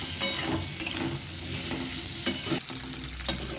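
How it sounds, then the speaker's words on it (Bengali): Potatoes lightly frying in oil in a pan for a prawn curry, a dense continuous sizzle with intermittent scraping and stirring knocks, close and fairly loud, no voices. "এটাকে আমি হালকা ভেজে ভেজে নেবো তারপর আমি দেখাচ্ছি আলুগুলো ভেজে"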